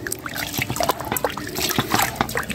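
Papaya leaf and turmeric blended mixture is stirred into water for feeding chickens, giving a busy run of close wet sloshing and trickling splashes with scattered clicks.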